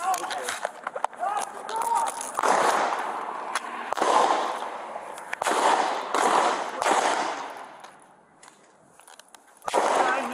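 Scattered sharp cracks ring out during a police shootout with a suspect in Milwaukee, Wisconsin, recorded on a bodycam, amid loud shouting, talk and hurried movement.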